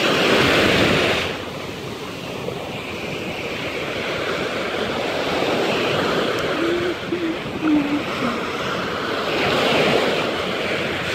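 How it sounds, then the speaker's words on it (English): Broad rushing surf of the Gulf of Mexico rolls onto a beach at Destin, Florida, with gusts of wind buffeting the microphone, a steady roar of waves that swells and eases. "This is the Gulf of Mexico."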